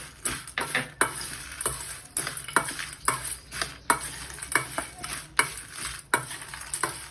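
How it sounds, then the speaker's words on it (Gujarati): Chillies being stirred into torn leftover roti frying in a pan: a rhythmic series of scraping spatula strokes, roughly two per second, over a continuous close sizzle. "મરચાં એડ કરી દઈશું, મિક્સ કરી દઈશું"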